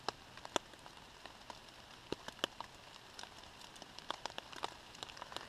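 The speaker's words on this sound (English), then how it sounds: "It's been raining for a good solid 45 minutes, maybe an hour" Rain falls in a forest in the Big South Fork during a fall hammock camp, heard as scattered crisp drips and taps on nearby surfaces over a soft steady patter, with no voices.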